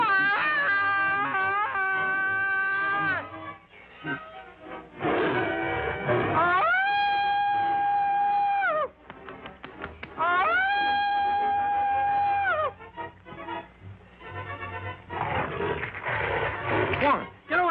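A cat gives long, wailing meows and caterwauls in several drawn-out cries, with someone talking between and over them, heard on an old 1930s film soundtrack.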